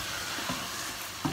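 Minced meat fries in a pan while a spoon stirs it, a soft continuous sizzle broken by a couple of light scraping strokes, fairly quiet and close.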